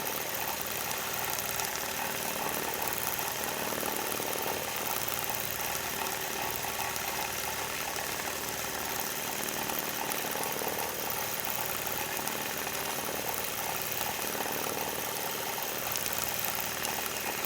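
A machine stitching embroidery with a steady, even mechanical whir running without pause throughout, moderately loud and close, with no speech.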